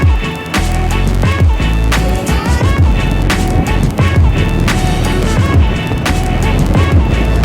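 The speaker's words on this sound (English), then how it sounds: "Good pickup on this scooter" Steady, loud motor whine and rushing wind noise from an Eahora Tiger King electric scooter being ridden through town at half battery, continuous throughout with no talk.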